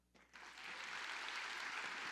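A church congregation breaks into applause during a worship service, the clapping rising quickly from quiet and then holding as a steady, dense wash of many hands.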